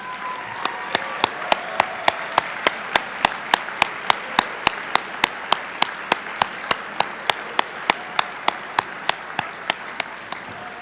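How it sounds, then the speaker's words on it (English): Audience applause at a keynote dinner for the session speakers and moderators, heard as steady clapping from a crowd of many hands with sharp individual claps standing out, continuing loud and even throughout. "can you please stand for applause?"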